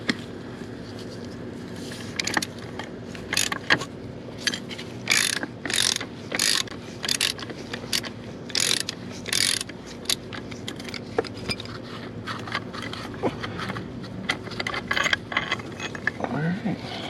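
A ratchet works a bolt loose from the transmission cross member of a 2008 BMW 328xi, giving repeated bursts of sharp clicking with short pauses between strokes, close and clear over a faint background hum.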